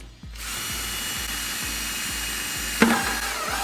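A cordless drill spins up and whines steadily at close range, ending with a brief sharp crack as the bit breaks through a plastic 5-gallon bucket.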